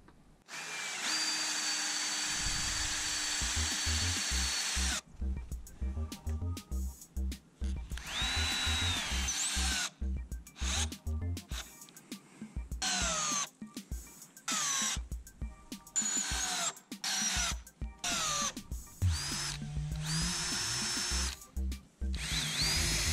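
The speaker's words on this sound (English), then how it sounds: "I put the battens upright, pre-drill the holes and secure them in the posts with long wood screws." A cordless power drill pre-drills holes and drives long wood screws into wooden posts while a firewood storage shed is built outdoors. The motor whines in repeated bursts of varying length, separated by short pauses, throughout.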